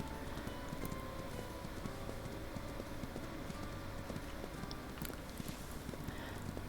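Horse hooves clip-clop steadily while riding across a sandy coast in the video game Ranch of Rivershine, a continuous walking rhythm at moderate level over a busy game soundscape.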